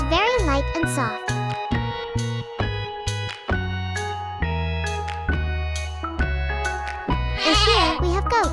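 Barnyard goats bleat in short wavering cries, clearest at the start and near the end, amid steady tonal background sounds.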